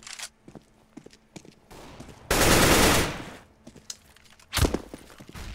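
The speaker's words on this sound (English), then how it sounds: "That's machine gun." Counter-Strike match gunfire: a sustained loud machine gun burst in the middle, surrounded by sparse single shots and footsteps, with a further shot burst toward the end.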